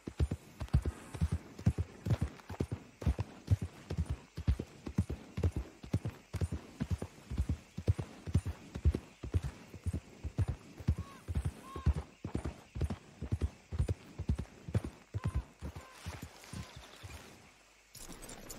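Horse hooves clip-clop in a steady trotting rhythm in the video game Red Dead Redemption 2, dozens of crisp hoofbeats at an even pace, close and clear with no speech.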